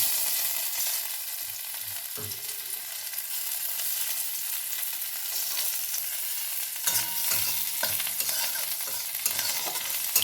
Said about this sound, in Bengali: এবার আমি কড়াতে এই অল্প তেলে আমি প্রথমে দেব রসুন কুচি